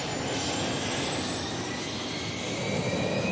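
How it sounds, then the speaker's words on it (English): A Learjet's jet engine roars steadily during a ground run-up test, a loud, continuous broadband rush with a high whine, close and unbroken for the whole stretch. "We'll bring it out to a run-up area and check engine performance."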